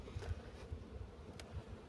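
Honey bees buzz faintly around, a soft fluttering hum of several insects flying close by in a quiet setting.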